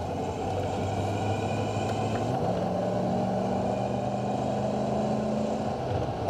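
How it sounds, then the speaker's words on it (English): A 1986 Ford F150 Bullnose 4x4 pickup with fuel injection accelerating on the road, a steady engine drone with the pitch shifting upward as it gathers speed, heard from inside the cab with no talking. "Smooth, clean acceleration."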